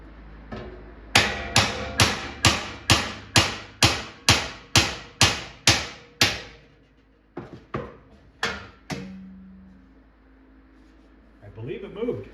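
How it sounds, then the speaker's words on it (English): About a dozen sharp metal hammer taps ring out in a quick even series as a stud held in a vise is struck lightly, then a few scattered taps follow after a pause, with a brief clatter at the end. "let me grab a hammer, see if we can lightly tap at it"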